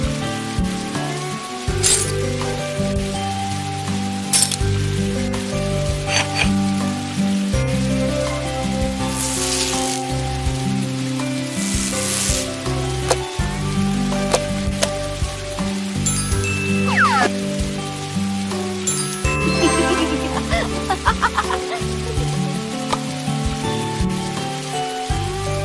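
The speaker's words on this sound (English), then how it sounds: "It's raining." Steady rain in a video game patters and splashes across a surface, with occasional clinks and a layered, droning background underneath; continuous and fairly loud throughout.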